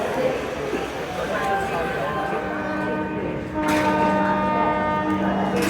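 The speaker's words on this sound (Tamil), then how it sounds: "2:25க்கு ஹார்ன் கொடுத்துட்டாங்க." Train horn from a departing Hyderabad to Coimbatore passenger train, a sustained tonal blast holding steady over the rumble of a crowded carriage and chatter, swelling louder partway through.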